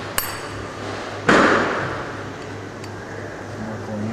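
A hammer strikes metal once, sharply and loudly, during repair work on a GBC T5 with a hum in the background. A smaller tap precedes it and a ringing decay follows.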